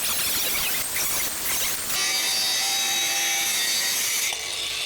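A DongCheng DCSM08-100 cordless battery angle grinder cuts through 16 or 20 mm steel rebar, a loud continuous high-pitched grinding whine that shifts in tone partway through and stays steady to the end.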